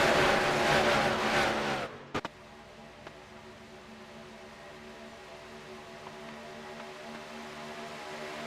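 Race cars circling Daytona in a sim racing video game: a loud, steady engine drone for about two seconds cuts off abruptly, leaving a faint, even hum beneath.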